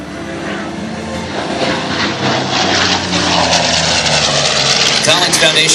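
A vintage WWII propeller aircraft engine roars at a Rhode Island Air National Guard airshow. The loud, steady drone builds slightly as the plane passes close by.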